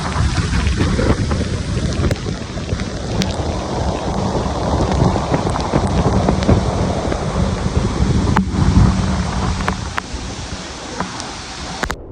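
Nanemachi Waterfalls on a trekking trail give off a constant, dense roar of falling water close by, with gusts of wind buffeting the microphone and no talking.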